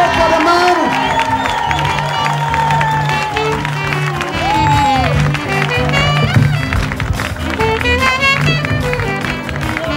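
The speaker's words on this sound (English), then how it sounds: "I'd like you to give a real rousing round of applause to Sir Frankie Francis." A crowd cheers, whoops and claps for Sir Frankie Francis, loud and continuous throughout, with music playing underneath and voices mixed into the roar.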